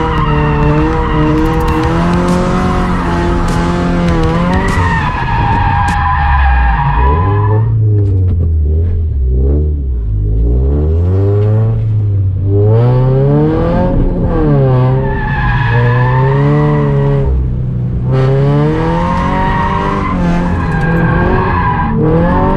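A Scion FR-S drifts at a drift event, its engine howling and revving up and down under long, loud tire squeals and skids that continue with little break, close and dominant throughout.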